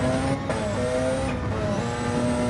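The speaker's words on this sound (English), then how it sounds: "God, it really revs up, doesn't it? Goes up those gears." A Porsche race car engine at Spa revving hard, a loud, continuous high-pitched drone that rises in pitch, with a brief dip around a gear change.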